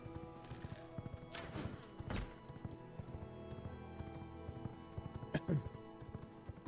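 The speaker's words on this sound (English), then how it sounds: "I have to ride my horse home" Hooves of a ridden horse clip-clop in a steady rhythm in a castle-building survival video game, with a horse whinny near the middle and again near the end, under faint game ambience.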